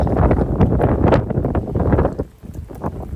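Strong wind with rain buffeting at the coastal Sandiaojiao Lighthouse in New Taipei, Taiwan: loud, gusty roaring and rumbling bursts close to the microphone, easing briefly before surging again.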